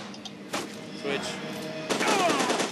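Assault rifle fire in the first-person shooter video game FEAR 2 comes in loud, sustained automatic bursts that fill the clip, with a short lull partway through before the shooting picks up again.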